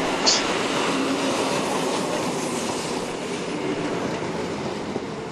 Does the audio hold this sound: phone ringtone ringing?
no